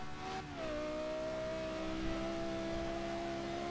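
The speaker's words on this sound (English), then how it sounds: "It also makes a glorious noise from that V10" Lexus LFA V10 engine revving steadily in a single sustained pull, with a strong rising harmonic whine that stays loud and close throughout, no voices.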